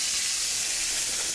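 Chicken frying in hot grease gives off a steady, close sizzle of broad, bright hiss that holds constant without break.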